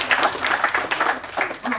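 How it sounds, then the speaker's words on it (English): Wedding guests clap in a short burst, a moderate spread of hands with uneven bursts, fairly close, and a few voices murmuring among them. "So you can clap for them too."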